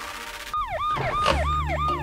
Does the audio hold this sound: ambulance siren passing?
yes